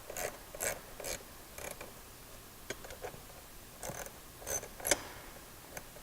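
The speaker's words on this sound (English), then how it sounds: "take our 8mm and tighten this down" Factory screws are tightened with an 8mm socket ratchet during a Superchips Pulsar install on a 3.6L Jeep JL Wrangler, giving quiet clusters of quick ratcheting clicks in short bursts with pauses, close and faint, and no talking.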